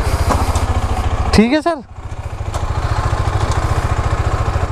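A KTM 390 Adventure motorcycle idles close by with a steady, rapid low throb, while someone briefly speaks over it.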